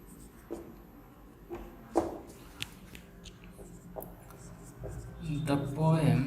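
Handwriting on a surface, soft scratchy pen strokes in short irregular bursts, faint and close, while a person talks throughout.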